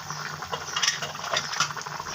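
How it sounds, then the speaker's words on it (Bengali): Curry with fish and pumpkin vadi bubbles and simmers in a pot, a steady soft burbling with small pops and light clinks close by, no voices. "তরকারিটা বলক চলে এসেছে"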